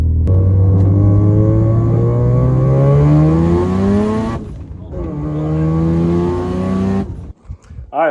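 A Mazda RX-7 FD with a rotary turbo engine revs hard through rising gear pulls, loud and close, with a brief dip between pulls and a sharp cut at the end.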